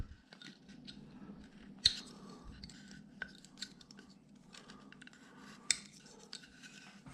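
Scissors snip through material in a quiet room, a series of soft, close cuts with a couple of sharper clicks along the way.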